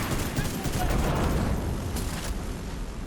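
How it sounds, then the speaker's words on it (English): Rapid sustained fire from train-mounted green chain guns in the video game The Division 2, a dense continuous roar of gunfire filling the whole stretch without a break. "the green miniguns, the chain guns from the train that fire for 5 seconds"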